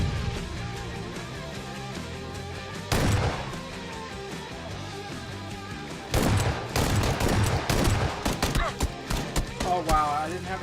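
Video game gunfire erupts in loud bursts of rapid shots, one short volley and then a longer stretch of overlapping fire, over a continuous low game soundscape.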